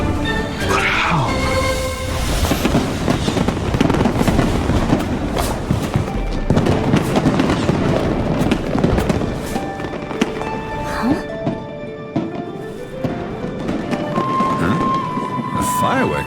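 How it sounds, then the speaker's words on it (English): Fireworks show in the Genshin Impact video game, with a dense run of booming bursts and crackles that holds steady and loud throughout, mixed with game music and voices speaking. "A fireworks show?"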